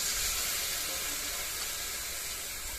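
Food cooks on a clay stove while potatoes fry alongside, giving a soft, continuous sizzle and hiss that stays low and even throughout, with no voices.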